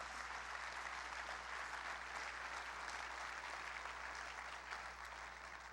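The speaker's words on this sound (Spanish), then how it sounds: "Levántale fuerte ese aplauso al Rey." A church congregation claps for the King during a worship service, producing a faint, steady wash of applause that sounds distant and low in level for several seconds.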